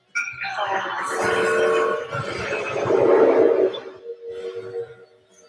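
A train rumbles and sounds its horn in a Kamen Rider episode, a loud, tonal blare with heavy mechanical roar that swells, eases, then swells again before fading.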